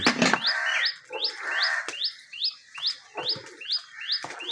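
A small bird perched in a village setting chirps repeatedly, a series of sharp, rising tweets in quick succession, close and clear, with occasional faint rustles between calls.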